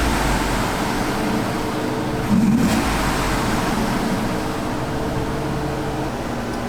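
A modified-throttle Ford Bronco engine hums steadily, close and continuous, with one brief swell in revs early on before settling back to an even drone.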